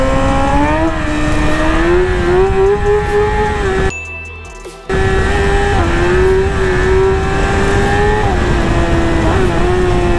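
Motorcycle engine ridden through traffic, revving and accelerating with a loud, steady drone that rises in pitch, cuts out briefly when the throttle drops, then climbs again, heard up close over rushing wind.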